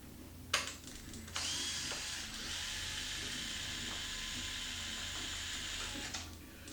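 A small power driver whirs steadily, backing screws out of a Traxxas X-Maxx RC truck chassis. A sharp click opens it, then a long continuous buzz follows and stops abruptly near the end.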